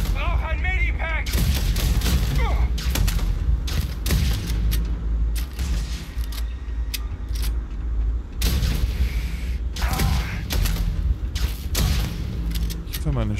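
Gunfire in the space role-playing game Starfield, with repeated loud booming shots and rapid volleys in quick succession, while a player talks in German over the combat.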